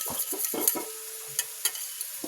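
An egg is added to a pan of eggplant for Ilocano poqui-poqui, with several sharp utensil scrapes and stirs over a faint, quiet sizzle, close by and without speech.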